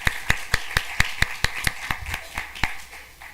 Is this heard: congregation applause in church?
yes